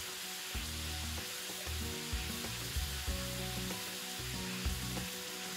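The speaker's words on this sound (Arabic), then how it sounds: "وخلوا هذيك المارغارين تذوب. راكم تسمعوا فيها كيفاش راهي ترنن" Onions and melting margarine sizzle in a frying pan, a continuous close hiss that runs under bursts of tonal background music.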